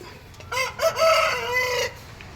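A single rooster crow rings out close by, a rising then sustained harmonic call lasting over a second, with faint background noise around it.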